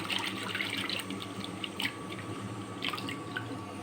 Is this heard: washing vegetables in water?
yes